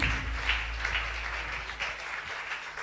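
A church congregation at a healing service breaks into sustained applause and cheering for the Lord, a dense, continuous clapping that fills the room at an even level.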